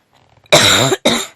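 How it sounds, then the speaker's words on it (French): Two sharp coughs close to the microphone, a long harsh one followed by a shorter one, with faint breathing before. "Je tousse."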